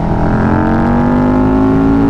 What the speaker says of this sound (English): You can literally just crack the throttle.